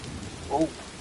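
Steady rain hiss fills the short stretch in the video game Death Stranding 2, with a brief tonal blip rising midway through.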